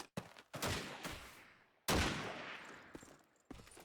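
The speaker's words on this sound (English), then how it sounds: "And there is Supreme on the 30 cal" Gunfire from a .30 cal machine gun in Call of Duty 2 during a competitive match, with several loud separate shots and short bursts, each trailing off in a long echoing decay, and one heavy blast near the middle.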